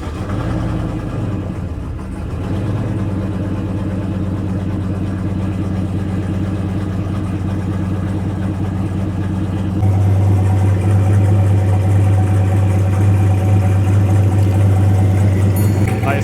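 A turbocharged 5.3 pickup truck engine idles steadily with a deep, loud rumble, its tone stepping up and growing heavier partway through as the idle rises; no speech is heard.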